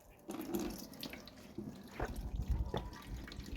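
Coolant pours and drips out of a Toyota Corolla radiator in a home garage, irregular splashing and trickling up close with a few heavier spills.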